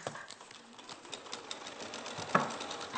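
A sewing machine does freehand meandering quilting with a soft, steady mechanical whir and rapid stitching, quiet and continuous, with a brief louder bump near the end.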